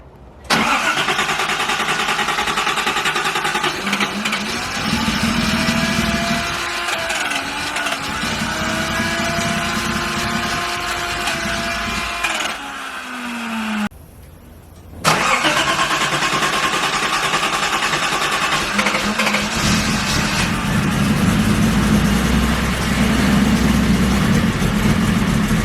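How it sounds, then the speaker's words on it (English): A Datsun 280ZX engine cranks, catches and idles roughly, with a brief stall and restart midway; the mid-pitched engine stays close and loud throughout. "I want to see if this car starts."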